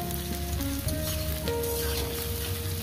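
Okra, potatoes and onions fry in a pan with a steady, even sizzle and faint hiss, close and continuous with no talk.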